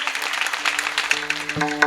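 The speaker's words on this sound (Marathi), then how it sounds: "आपण टाळी वाजवू" Audience clapping at a kirtan in Varud, a dense wash of steady clapping under harmonium-like sustained tones that come in toward the end.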